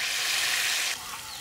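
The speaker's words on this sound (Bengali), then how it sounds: "আমাদের মাছ ভাজা প্রায় শেষ হয়ে গেল" Tilapia fries in a pan with a loud, close hiss that holds steady and then eases to a softer sizzle near the end.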